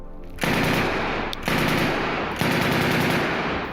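PPS submachine gun firing three long, rapid, continuous bursts separated by brief gaps, loud and close.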